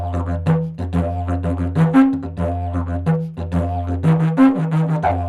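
A didgeridoo plays the Why Not rhythm chorus at full speed, a deep droning pulse with quick, bouncing accents and vocal-like overtones, close and unaccompanied.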